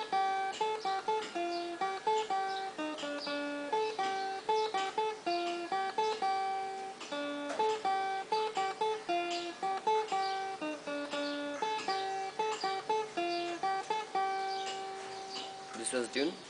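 A tune played on guitar, a lively plucked melody of quick repeated picked notes and short phrases, close and clear, played alone without talk.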